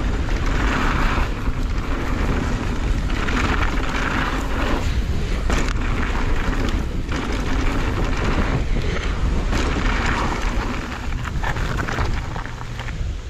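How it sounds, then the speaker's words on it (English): Strong wind roars steadily against the microphone, buffeting in gusts with a heavy low rumble throughout. "This wind is pretty outrageous."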